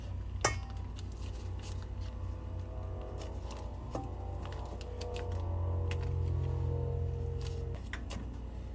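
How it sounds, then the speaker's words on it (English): Cold butter cut into cubes with a knife, giving faint scattered taps and clicks of the blade on the board at irregular intervals over a low steady hum, with no voices. "Just cubing this butter up here, taking a while, but it'll get done"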